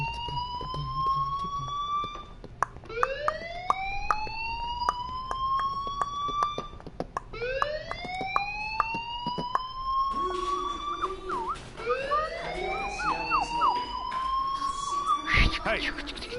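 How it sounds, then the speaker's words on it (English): Fire alarm in the Life is Strange game, wailing in repeated rising sweeps of high whooping tones that loop steadily, with brief clicks and a busier patch toward the end. "do you hear that fire alarm?"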